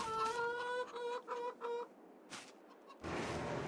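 Chickens in a Farming Simulator 22 barn built for 2,000 birds cluck in short bursts, several quick calls followed by a pause and then a softer rustle.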